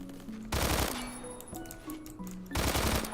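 UMP-40 submachine gun fire in the shooter game Phantom Forces, two loud rapid bursts of automatic shots with a quieter gap between them.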